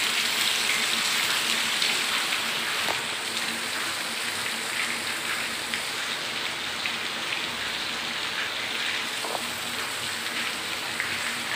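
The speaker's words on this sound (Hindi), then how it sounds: "आज बारिश हो रहा है एकदम जम के" Heavy rain pours down steadily at night, a dense continuous hiss of drops drumming on surfaces, unbroken throughout with no voices.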